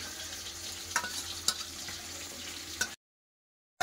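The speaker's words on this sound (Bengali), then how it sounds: "মাছ ভাজা হচ্ছে" Fish frying in a pan, a steady soft sizzle with a few faint clinks of a utensil, close and quiet, then cutting off to silence near the end.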